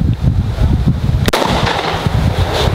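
An AR-15 rifle fires a single loud, sharp crack at an outdoor shooting session, set against steady wind and microphone rumble.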